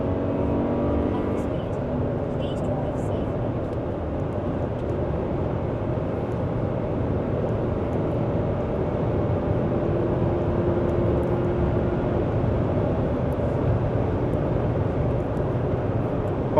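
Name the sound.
Jetour T1 SUV accelerating and shifting gears on test drive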